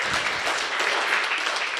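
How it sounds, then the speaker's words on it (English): Audience applause for a commissioner at an African Anti-Corruption Day event, a dense, steady burst of clapping from a crowd heard for a couple of seconds. "Let's give the Commissioner a better round of applause."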